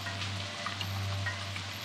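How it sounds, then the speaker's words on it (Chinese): Steady rain falls continuously, a soft even hiss with light patter, alone with no voices and a low constant hum beneath. "这场雨从昨夜下到今日"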